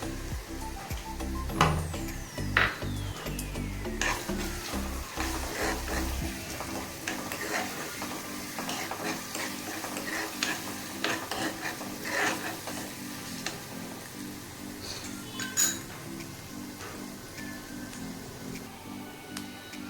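Small chopped coconut pieces frying in a pan for prawn roast, with a continuous low sizzle under repeated scraping and clattering of a spoon against the pan.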